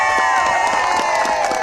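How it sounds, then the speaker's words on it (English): Outdoor crowd cheering, whooping and clapping at a Guy Fawkes night play in Misquamicut, Rhode Island, a steady loud roar sustained throughout with shouts rising above it. "Please give me a great majority rules round of applause for Caswell"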